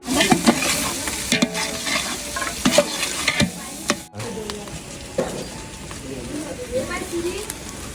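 Onion and chicken frying with garam masala in a large pot for a party meal for seventy people, loud sizzling and repeated stirring scrapes, with voices talking over it.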